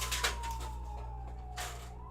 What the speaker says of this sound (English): Oh, it was an ambulance.